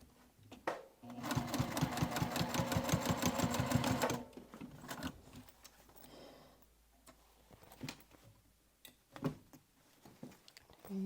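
A sewing machine stitches a seam a quarter inch in while making a dual-zip crossbody bag, a steady rapid run of needle strokes lasting a few seconds, then it stops, followed by quieter handling sounds.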